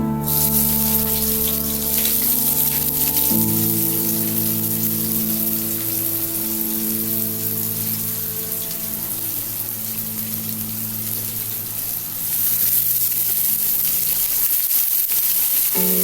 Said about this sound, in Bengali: আমি দিয়ে দিচ্ছি পেঁয়াজ কুচিগুলো।